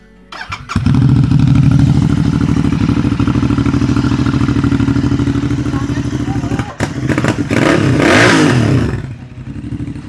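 A Deep Forest motorcycle engine revs hard and loud up close, holding a steady high roar with a brief dip near the middle before a second surging rev, while people talk over it.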